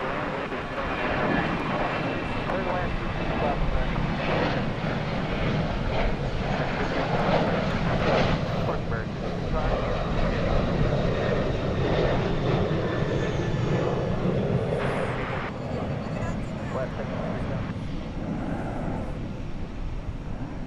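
An American Airlines airliner rolls down the runway at DFW Airport, making a loud, steady roaring rumble that holds for about twenty seconds. A voice talks faintly underneath.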